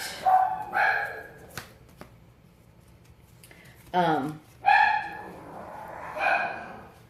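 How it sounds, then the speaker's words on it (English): Dogs bark in short bursts at moderate distance, a few scattered woofs over a quiet background. "You hear the dogs in the background."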